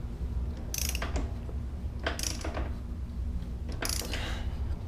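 Ratchet clicks in short bursts while the rear axle nut on a Suzuki GSXR 600 is tightened to 110 Nm, three separate rasping pulls, close and fairly quiet over a low steady hum.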